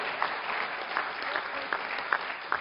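An audience claps steadily and fairly loudly, a dense, even patter of many hands with a few sharper individual claps standing out.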